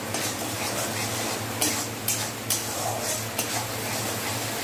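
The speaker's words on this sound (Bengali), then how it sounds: "ভালোভাবে মশলাটা কষিয়ে নেব।" Mustard and green chilli spice paste for a parse fish curry fries in oil while a spatula stirs it, steady sizzling under a few sharp scraping taps against the pan.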